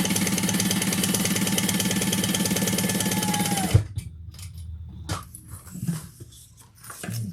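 A sewing machine stitches a bucket bag in a fast, even, loud mechanical patter for a few seconds, then stops abruptly, leaving quiet room noise and a few soft handling clicks.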